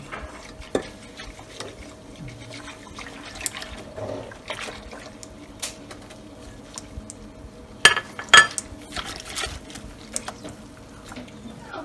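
A whisk beats flour into a milk pudding mixture for kadayif pudding, making soft, wet, irregular swishing and clicking strokes in a bowl, with a few sharper knocks near the end.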